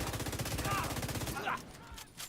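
In The Division, fast automatic gunfire rattles continuously for over a second, dense and close, then breaks off into quieter scattered game noise.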